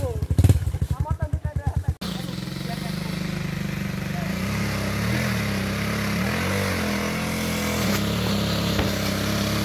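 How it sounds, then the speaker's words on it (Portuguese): Trail motorcycle engine revving hard as it climbs on a dirt trail, opening with rapid pulsing bursts and then settling into a loud, sustained drone, with voices shouting nearby. "A moto tá em terceira, tá em segunda!"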